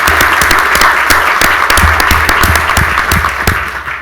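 A conference audience at an economic mobility session bursts into sustained, loud applause, dense rapid clapping filling the room throughout and tapering only slightly at the end.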